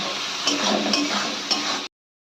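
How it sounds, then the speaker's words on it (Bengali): Prawns sizzling in hot oil with salt and turmeric, a steady bright frying hiss with a few soft stirring clinks, close and alone, cutting off abruptly. "চিংড়ি মাছটা আমরা নুন হলুদ দিয়ে একটু ভাজা ভাজা করে নেব।"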